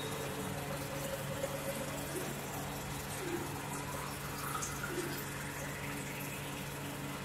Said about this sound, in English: Whatever the water I am pouring into this bottle, this is the model data.